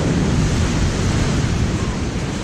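Huge ocean waves break on Reynisfjara black sand beach in Iceland as a loud, continuous broadband roar of surf, heavily mixed with wind buffeting the microphone, with no distinct individual breakers.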